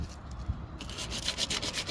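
Steady hand sanding on body filler on a car body, a continuous rough scratching with rhythmic strokes, close and moderately loud, no voices.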